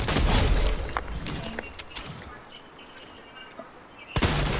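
Enemy AI henchmen fire guns in Fortnite, with a burst of loud shots at the start, scattered fainter shots through the middle and another sharp volley near the end.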